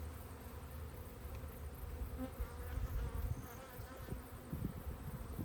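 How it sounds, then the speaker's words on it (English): Honeybees streaming out of a backyard hive entrance up small pieces of wood, a dense, steady buzzing of many insects close by with no talk. "the bees climb up them. And out they go."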